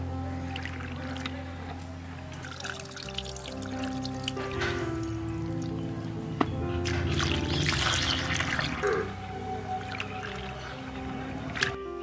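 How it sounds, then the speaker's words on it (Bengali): Soaked chana dal gets rinsed by hand in a bowl of water, with continuous sloshing, squishing and trickling under a steady background hum, no voices. "এখানে ছোলার ডাল ভালো করে পরিষ্কার করে ধুয়ে নেওয়া হচ্ছে"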